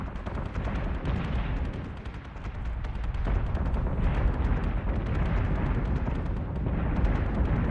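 Ship weapons in the space battle game BSG: Deadlock fire continuously in dense, rapid volleys, a loud unbroken roar of booming shots and blasts with no pauses.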